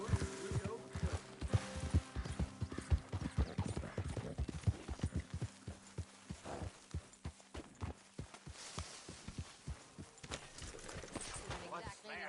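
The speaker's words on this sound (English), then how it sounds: "What's that horse doing in here?" Hooves clopping in a steady, brisk rhythm in the video game Red Dead Redemption 2, close and fairly clear, continuing throughout as a horse moves along.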